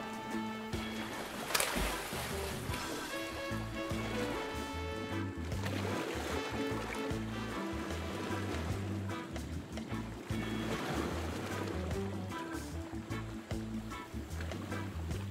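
Tropical sea swell rushes and sloshes around a swimmer who has just climbed down a ladder into the water, a continuous watery wash under a musical background.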